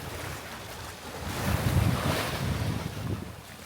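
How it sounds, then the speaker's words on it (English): Strong wind buffets a sailing boat at sea, a dense roaring rush with rumbling gusts and surging water noise that swell midway, loud and close against the microphone with no talking. "We got some wind."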